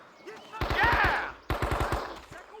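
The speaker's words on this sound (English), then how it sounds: "If it moves, light it up! Open fire! Open fire!" Machine gun fire in the Men of Valor war video game, two loud bursts of rapid shots with a short pause between them and shouting voices over the gunfire.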